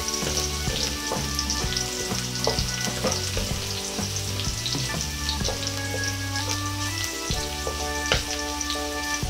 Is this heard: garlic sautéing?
yes